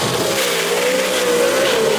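Gasser drag racers at a dragway, a 1958 Corvette and a car with a 427 cubic inch engine, roar loudly and continuously at full throttle, their rising engine note dominating with some tire squeal and no voices.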